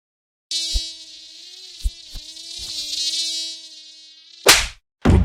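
In an insect-repellent commercial, mosquitoes and flies buzz in a sustained, close, high whine, punctuated by several soft thuds, then a loud swat, a brief silence and another burst of noise.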